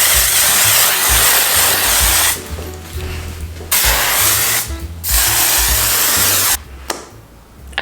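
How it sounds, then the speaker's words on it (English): Curlsmith Flawless Finish flexible-hold hairspray sprays close by in several long hissing bursts, each broken by a short pause. "Now I'm going to try and just lock it all in place with the Flawless Finish hairspray from Curlsmith."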